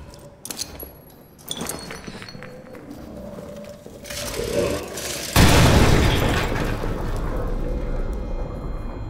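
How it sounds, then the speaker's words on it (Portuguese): A grenade detonates in the horror game Amnesia: The Bunker, inside a bunker: a sudden loud blast with a long, rough, roaring decay. It follows quieter clinks and shuffling, and a voice talks around it. "Eu vou tentar explodir essa porra, velho."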